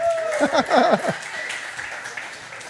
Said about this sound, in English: Clap it up for Lyndon's family.